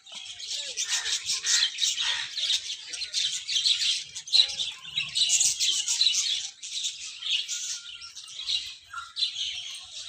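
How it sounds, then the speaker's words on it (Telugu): Captive parrots, including white and albino varieties, chirp and squawk in a dense, continuous chorus at moderate distance, with overlapping calls filling the whole stretch and no clear voices on top. "ఇవి చిలకలు లివింగ్"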